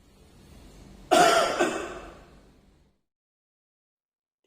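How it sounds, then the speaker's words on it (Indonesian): During a breathing exercise for a COVID-19 patient in home isolation, a soft, long inhale leads into one strong, forceful cough that trails off, close to the microphone, followed by silence. "Tarik nafas panjang, kemudian diakhiri dengan batuk sekuat mungkin."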